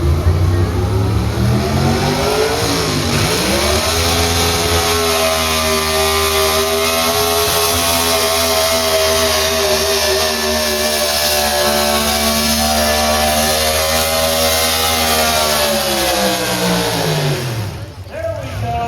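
A pickup truck's engine roars loud and close during a truck pull at the Columbiana County Fair in Lisbon, Ohio, holding a high strained rev for a long stretch, then sputtering and dropping off at the end.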